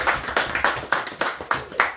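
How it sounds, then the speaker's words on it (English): Applause for actors after an Easter Sunday church skit: a small crowd clapping in a steady, sparse rhythm, individual claps distinct and close, with no voices over it. "just another round of applause for our amazing characters"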